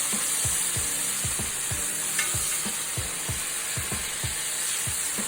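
Liver fries in a hot pan with a loud, steady close sizzle, punctuated by regular light clicks from the pan or utensil, no voices.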